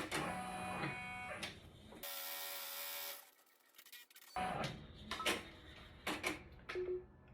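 A machine presses a handmade bag tag with a loud, steady broadband hiss lasting about a second, followed by a short quiet pause, then scattered clicks and clunks of handling nearby.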